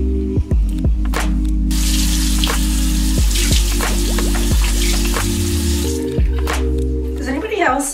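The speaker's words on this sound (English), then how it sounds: "I'm first gonna wash my face with this CeraVe Hydrating Facial Cleanser." Water from a tap splashes and drips into a bathroom sink during face washing, a steady running stream with irregular spatters and droplets over a low hum of background music.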